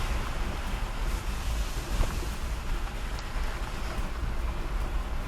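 Continuous wash of ocean waves breaking on rocks nearby on the south coast of St. Thomas, a dense hissing rumble with slight surges, no talking.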